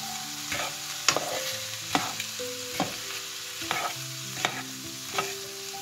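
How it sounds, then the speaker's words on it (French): Leftover chicken and sauce is stirred in a hot pan, a spoon scraping in a steady rhythm of distinct strokes over a soft background sizzle, with no voices. "Là je vais bien mélanger."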